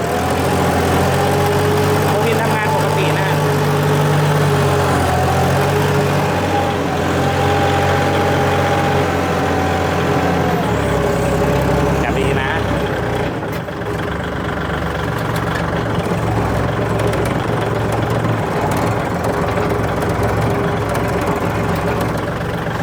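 A Kubota L4018 DT four-wheel-drive tractor engine runs steadily while plowing lightly, a loud continuous diesel drone with a low rumble that deepens slightly partway through, no talk over it.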